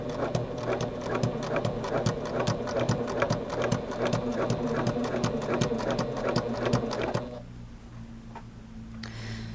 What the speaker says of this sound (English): I'm going to slow the sewing speed down. And let's see if this works.